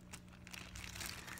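A thrifted plastic bag of toy plastic horses crinkles and crunches continuously, close and fairly loud, with a steady low hum underneath and no talking.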